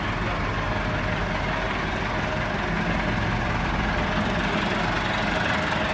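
A Massey Ferguson MF 375 tractor, a 75 hp model fitted with a front loader, idles with a loud, steady, rumbling diesel drone that holds continuously throughout, with no voices over it.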